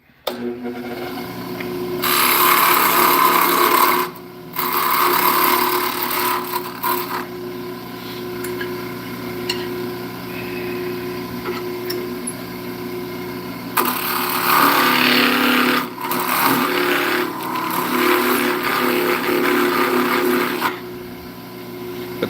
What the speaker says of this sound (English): I have to use my wide parting tool to get the tenon started